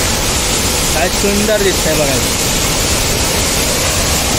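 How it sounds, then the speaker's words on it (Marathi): Savdav waterfall at Kankavli, Sindhudurg, in the Konkan: a loud, constant wash of falling water fills the scene, and a voice speaks briefly over it near the start. "हा असा आपला आपला सावडाचा धबधबा"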